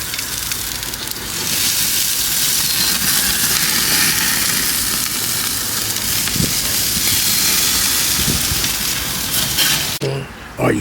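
A burger sizzles on a gas grill in a steady, dense hiss that holds for about ten seconds before abruptly dropping away near the end.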